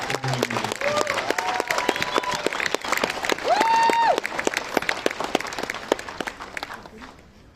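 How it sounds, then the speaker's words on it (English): A crowd gives a big round of applause at a youth football closing ceremony, steady and dense throughout with voices calling out over it before it tapers off at the end. "Big round of applause for the"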